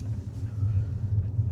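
A Mazda 6e electric sedan pulling forward in sports mode, heard from inside as a steady low rumble that swells slightly.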